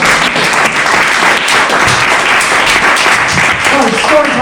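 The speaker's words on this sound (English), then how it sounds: "Give her a round of applause." Loud, steady applause from an audience at a storytelling festival, greeting the sister of a storyteller, with voices and cheers mixed into the dense clapping throughout.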